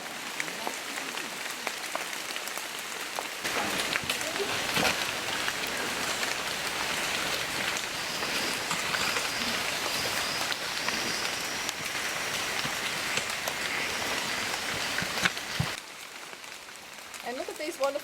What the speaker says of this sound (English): the rain's getting heavier all the time